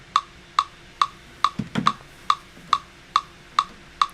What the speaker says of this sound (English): You put on your metronome